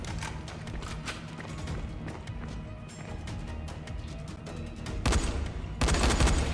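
Video game gunfire in Dying Light. A steady stream of shots and clatter carries throughout, with louder, harsher bursts near the end.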